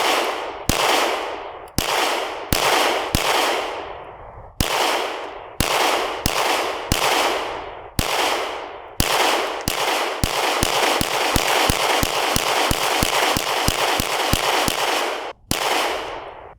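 Loud, close Glock pistol shots fired at targets outdoors in cold weather, each ringing out with a sharp echo: first a spaced series of single shots, then a rapid string of about fifteen, then one last shot.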